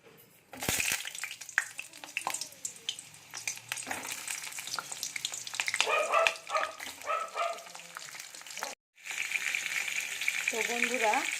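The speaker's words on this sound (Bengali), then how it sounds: "তো তেলটা গরম হয়ে গেছে, এবার পটলগুলো ছেড়ে দেব।" Sliced pointed gourd (potol) dropped into hot oil sets off a steady, loud sizzle with crackling spurts, running nearly unbroken for about eleven seconds, briefly cut off near the end before resuming.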